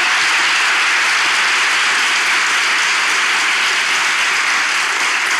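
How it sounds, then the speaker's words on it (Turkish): Studio audience applause at the close of a comedy relationship-test show, a dense, loud and steady roar of clapping that continues without a break. "Alkışlarla!"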